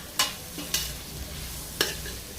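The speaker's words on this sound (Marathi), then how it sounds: "याच्यामध्ये भात मिक्स करून घ्यायचा" Cooked rice is stirred into a crispy fried mixture in a pan on a home kitchen stove: three sharp scraping strokes of the spoon over a soft sizzle, close and fairly quiet.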